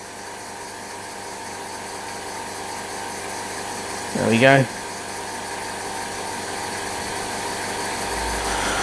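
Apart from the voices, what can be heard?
Weeden 3 model steam engine running on compressed air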